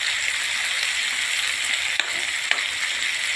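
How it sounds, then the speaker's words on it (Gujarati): Onion and tomato gravy for paneer karara fries steadily in a pan, a close, continuous sizzle with two faint clicks of stirring and no talking. "ગ્રેવી નાખી ડુંગળી ટામેટાની કરીશું એ. એને પણ સરસ શેકાવા દઈશું આપણે."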